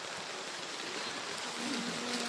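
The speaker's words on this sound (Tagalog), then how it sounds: "Malakas na yung ulan." Heavy typhoon rain pours steadily as a dense, even wash of close hiss, swelling slightly louder near the end, with no talk over it.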